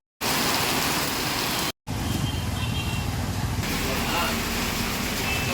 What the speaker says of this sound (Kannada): ಧಾರಾಕಾರ ಮಳೆಗೆ ಪಟ್ಟಣದ ರಸ್ತೆಗಳು ಜಲಾವೃತವಾಗಿದ್ದವು